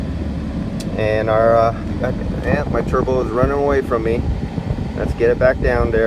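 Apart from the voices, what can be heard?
diesel engine with turbo revving up and down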